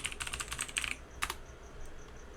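Quick bursts of keystrokes on a computer keyboard, close and fairly crisp, come in a rapid run, then a short pause and one more brief flurry before the clip trails off into quiet room tone.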